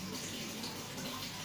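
Water spills out over the rim of a coconut bonsai pot whose soggy soil is slow to absorb it. A steady, continuous rushing splash, even and fairly soft, with no voices.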